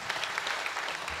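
Audience clapping at a devotional discourse gathering, a brief, fairly faint patter of many hands that holds steady throughout, with little else audible.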